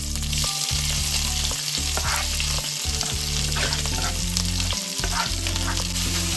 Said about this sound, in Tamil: இதில் பச்சை வாடை போகும் வரைக்கும் நல்லா பொரிய விடணும்